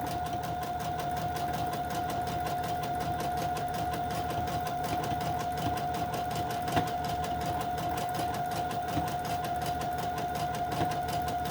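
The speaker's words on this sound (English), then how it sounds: "Just zigzagging." Sewing machine running steadily while zigzag stitching over fabric and lace, a continuous close mechanical whir with a constant tone and no talk over it.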